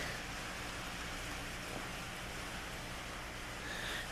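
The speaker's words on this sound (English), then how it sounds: "So you can hear the rain is here, by the way." Steady rain falls outside a garage or shop where a 1969 Dodge Dart is being restored, a constant broadband hiss holding even for the whole stretch with no voices.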